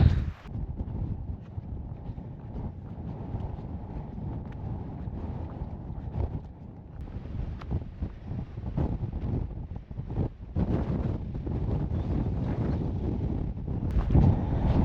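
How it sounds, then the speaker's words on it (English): Steady, buffeting cold wind roars across open moorland in the Yorkshire Dales, gusting harder at times, with the rumble of air hitting the microphone throughout and no voices. "it is just cold and windy now"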